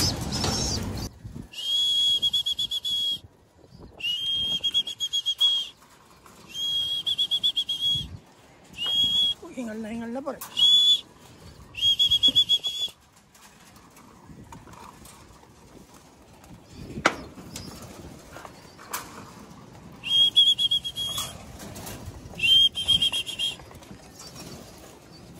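Birds chirp and whistle in short repeated bursts from a rooftop at midday during bird trapping, the calls moderately distant with gaps between them, and someone speaks briefly amid the calls.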